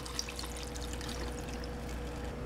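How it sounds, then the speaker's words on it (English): Chilled water poured from a jar into a blender makes a steady, gurgling pour with light splashes, continuous and fairly close for a couple of seconds. "So I just dump that into the blender."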